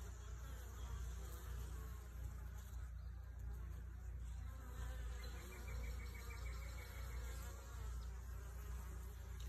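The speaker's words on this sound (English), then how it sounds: "these are some really mild-mannered bees now" Mild-mannered honey bees swarm around a hive entrance, a continuous dense buzzing hum of many insects, close and fairly quiet, with no voices.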